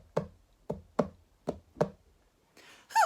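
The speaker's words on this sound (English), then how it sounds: "Suddenly, Percy heard a tapping sound." A run of five sharp knocks tapped on a door at night, spaced unevenly and fairly close, followed by a brief rustle and a short voiced sound at the end.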